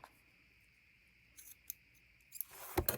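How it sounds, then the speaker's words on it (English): Good fabric scissors trim the edges of fabric for a holiday journal craft, giving faint, crisp snips that grow into a denser run of cutting sounds near the end, close by in a quiet room. "Just going to cut these off on the edges with my good fabric scissors that cuts very nicely."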